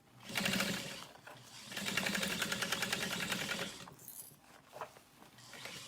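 A sewing machine stitches vinyl at a stitch length of 4, running in short bursts of rapid mechanical chattering, close up, with pauses and small clicks between runs.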